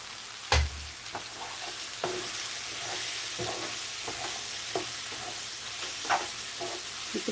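Ridge gourd pieces frying in a hot pan with salt and chili powder, a steady sizzle with several sharp scraping clicks from stirring, close up, no talking.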